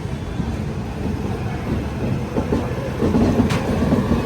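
Padmavati SF Express, the 12763 Tirupati to Secunderabad train hauled by a Lallaguda locomotive, rumbles steadily along the rails near Gudur Junction, with a continuous close wheel roar and faint clickety-clack rising slightly toward the end.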